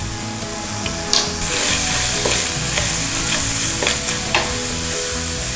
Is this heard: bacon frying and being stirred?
yes